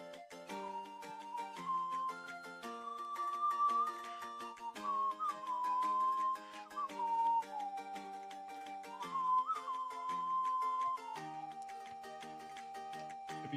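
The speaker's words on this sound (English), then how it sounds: "It'd be so fire if no one could hear the whistling." A person whistling a melody, a clear sustained tune of held notes with slight wavering pitch, steady and close, with no talk over it.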